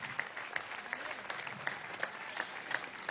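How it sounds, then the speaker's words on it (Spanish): A crowd applauds at a Venezuelan political rally held by President Maduro, steady clapping mixed with a few sharp whistles, heard from within the audience at moderate volume. "Gran compañero, un aplauso a Omar Cruz desde aquí."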